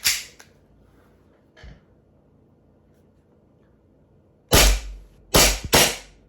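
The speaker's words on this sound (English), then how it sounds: "There is gas in the gun, however, so let's dry fire this thing." A gas-powered airsoft pistol is dry fired with no BBs loaded, giving a few sharp, snappy cracks: one at the start, a faint one shortly after, then a close cluster of three near the end, with quiet between.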